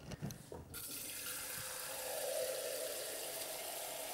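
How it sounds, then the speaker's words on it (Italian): Tap water runs steadily into a 500 ml jug to measure water for artichoke brine, a continuous close splashing hiss with a brief clatter at the start and no talk. "La mia brocca è da 500 ml, quindi non farò altro che riempirla due volte, così abbiamo un litro esatto."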